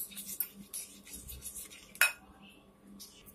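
A spoon mixing yogurt and sugar in a bowl, with soft, quiet scraping and a few sharp clinks of metal against the bowl, close by, including one distinct tap near the middle.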